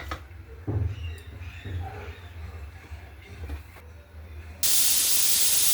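Quiet kitchen background, then a pressure cooker cooking lapsi abruptly lets out a loud, sustained hissing blast of steam that continues to the end.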